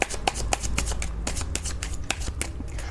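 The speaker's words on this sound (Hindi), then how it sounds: "चलिए और कार्ड्स निकालते हैं तो और पता चलेगा क्या आ रहा है दिसंबर मंथ में आपके लिए" Tarot cards are shuffled and drawn in a quick run of close, crisp riffling snaps and slaps, repeating irregularly over a low background hum with no talking.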